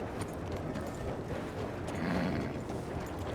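Horse hooves clopping as it pulls a hunting wagon in the Red Dead (RedM) game, a dense steady rumble of hooves and rolling wheels, continuous and moderately loud.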